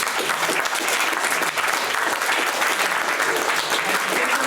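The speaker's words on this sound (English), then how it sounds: "I'll ask for another round of applause for Jesse." Sustained audience applause closing a public lecture on social anarchism and private property, a dense, even wash of many hands clapping close and steady throughout with no voices over it.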